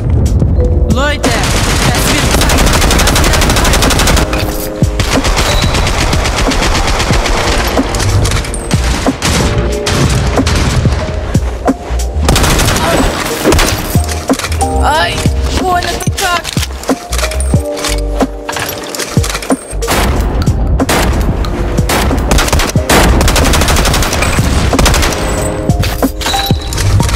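Sustained rapid fire from a Maxim minigun in the World War Heroes shooter game, a loud continuous roar of gunfire with booms and other battle noise through a team deathmatch, with no break.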